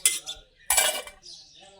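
Metal dishes and utensils clink and scrape against each other as they are scrubbed in a home kitchen, two short close bursts of clattering separated by a brief pause.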